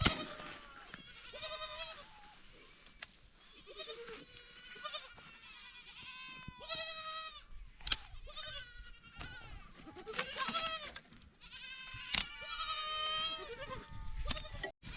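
Goats bleat again and again beside a wooded camp near the Pakistan border in Rajasthan, where goat milk is being boiled for tea, with loud, close, wavering cries overlapping throughout and no talk.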